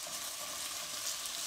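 Potatoes fry in oil in a pan for a vegetable kebab dish, a steady close hiss of sizzling with faint crackle and no talk.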